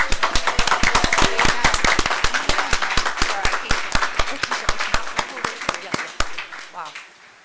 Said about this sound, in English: Let's give a big round of applause to Adam and the girls.